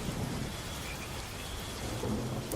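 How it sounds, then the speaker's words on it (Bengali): Steady, heavy rain pours continuously, with low rumbling thunder rolling underneath throughout. "বাইরে তখনও ঝমঝম করে বৃষ্টি পড়ছিল।"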